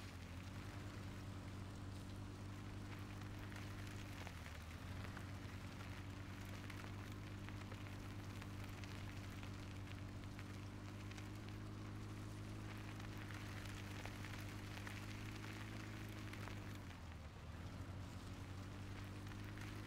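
Rain falling in the Farming Simulator 17 video game, a steady broadband hiss over a constant low engine-like hum, continuous throughout with no talk.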